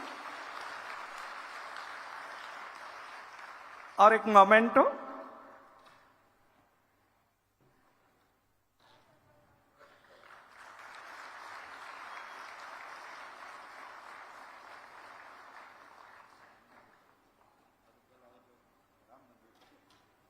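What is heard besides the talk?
audience applause at a ceremony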